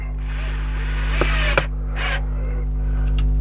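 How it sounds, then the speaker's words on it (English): A cordless screwdriver drives a screw down through a hole into the bottom of a garden planter, giving a couple of short mechanical bursts and clicks over a steady low hum, fairly close. "place a screw down through that hole that we put, just down to there."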